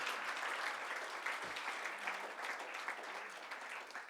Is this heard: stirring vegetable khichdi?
no